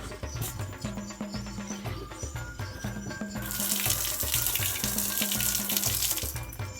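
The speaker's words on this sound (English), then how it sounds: "Take a shower." Warm water running from a shower at a mountain drill ranch in Nigeria, a steady broadband hiss that swells louder partway through, with a faint rhythmic knocking underneath.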